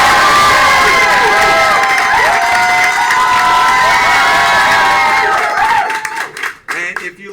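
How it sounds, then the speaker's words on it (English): A game-show audience at a live comedy event breaks into loud cheering, shouting and applause that stays strong for about six seconds and then fades out in scattered claps. "let's give a round of applause to both our contestants."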